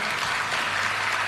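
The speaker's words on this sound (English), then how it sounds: "Let us clap for them all." People in the audience clap for the ministry CEOs at an environment day celebration, a short burst of steady, dense applause from a gathered crowd.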